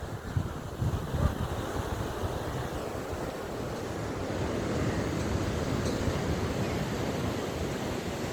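Steady roar of surf and wind on a tourist beach in the evening, broad constant wash of waves with wind buffeting the microphone, swelling slightly louder midway, no voices.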